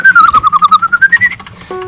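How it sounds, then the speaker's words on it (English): A person whistles a quick wavering tune of short pulsed notes for luck during a Minecraft survival games match, close and loud, ending with a brief electronic tone. "Had to give my little whistle."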